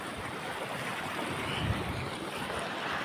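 Floodwater covers the ground around a village bridge, rushing in a broad, steady wash of sound mixed with wind buffeting the microphone, continuous and fairly loud, with no voices.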